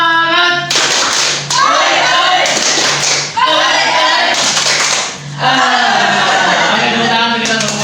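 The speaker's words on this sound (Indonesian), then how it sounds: "Tepuk semangat." Classroom group doing rhythmic spirit clapping, bursts of loud unison claps in a set pattern, with voices chanting and talking between the rounds.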